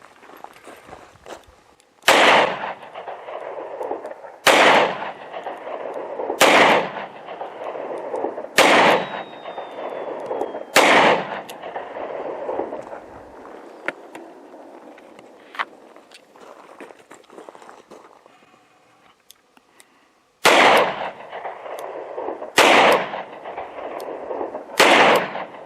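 Ruger LCR .38 Special revolver fired outdoors at a steel plate, about nine loud, sharp reports in two groups, spaced roughly two seconds apart, with faint handling and ambient noise between shots and no talking.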